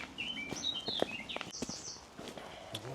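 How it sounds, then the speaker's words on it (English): Birds chirp and call in short bright bursts during a countryside walk near Lenham, with footsteps crunching steadily close by and no talk. "There's birds singing away"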